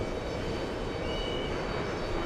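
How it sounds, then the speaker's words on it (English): An Emirates airliner on final approach at Los Angeles gives off a steady, broadband engine roar that stays level and fairly close, with no voices over it. "Emirates is on final approach."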